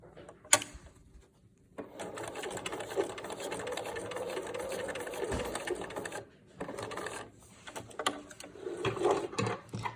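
Sewing machine top stitching straight down a two-color fabric mask, a faint close whirring run that stops briefly and restarts, with small handling clicks around it.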